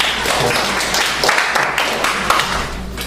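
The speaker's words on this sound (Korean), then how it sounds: "박수 해주시고요." An audience claps in a steady, dense patter of applause for a few seconds, at a church youth service after a sermon.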